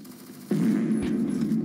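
Rapid automatic gunfire from a Honey Badger rifle in the shooter game Phantom Forces bursts in after a brief quiet and keeps up as one loud, continuous stream of shots.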